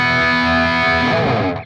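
An electric guitar played through an Engl amp on a high-gain setting sounds a thick, sustained distorted chord that rings out loud and alone, then decays over under two seconds.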